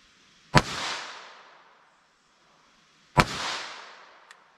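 Two sharp, close .22 Long Rifle shots fired with CCI Mini Mag hollow point rounds, spaced a few seconds apart, each with a brief ringing decay.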